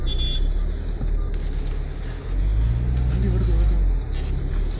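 A vehicle on a forest road in Anamudi Shola National Park comes closer, its engine rumbling and swelling loudly near the end, while people talk tensely over it.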